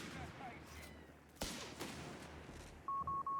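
In Company of Heroes 3, a rifle grenade goes off with one sharp, loud bang amid a clatter of battle gunfire, and a few short electronic beeps follow near the end.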